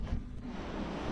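Sea waves by a seaside restaurant in Samoa roll and wash steadily at a distance, a low continuous rumble of surf with wind buffeting the microphone.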